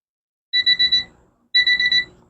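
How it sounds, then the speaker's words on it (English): Kitchen timer alarm going off while bacon-wrapped potatoes are prepared, two loud bursts of rapid high electronic beeping, each four quick beeps, separated by a short pause with faint background noise between. "there's my timer going off"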